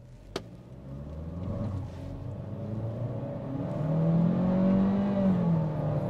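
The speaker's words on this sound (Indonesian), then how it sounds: "kita akan tes akselerasi dari kondisi diam" Chery Tiggo 4 Pro SUV with a CVT accelerating hard from a standstill, a steady engine drone rising in pitch and loudness with a brief click near the start, heard from inside the cabin with no talking.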